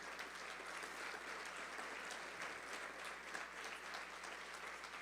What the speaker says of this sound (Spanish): Yo le daría un fuerte aplauso al Señor Jesús.